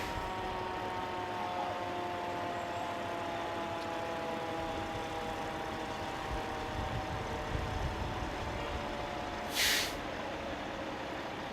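Fire department pumper and snorkel trucks idle and roll in a Veterans Day parade, a steady low engine rumble with whining tones, and a short sharp air-brake hiss near the end.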